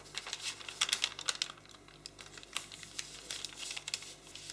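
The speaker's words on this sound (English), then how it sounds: "And then we're going to fold this back" Paper being creased and folded for an origami grizzly bear model, quiet crisp taps and crinkles in irregular bursts at close range.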